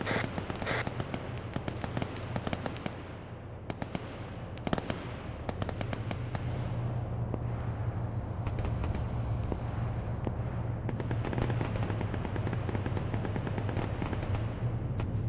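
Combat in the Arma 3 video game with tanks and gunfire, rapid distant shots and sharp cracks scattered over a steady low engine rumble, with no talking.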